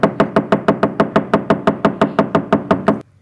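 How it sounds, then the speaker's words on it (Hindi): Someone raps on a closed house door with a firm, loud, even beat of about twenty knocks in three seconds. The knocking stops abruptly, leaving a quiet room. "वो थोड़ी देर तक दरवाज़ा खटखटाता रहा।"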